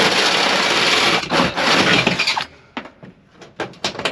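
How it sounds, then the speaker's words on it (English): A 3-inch bit bores through the metal rib of a new pole barn, a loud, harsh grinding roar for about two and a half seconds, then falling away into scattered bursts and scraping as the cut finishes. "Just something about making holes in a brand new building."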